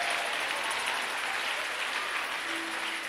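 A church congregation at a Sunday service claps together in a steady, moderately loud wash of applause that fills the room without a break.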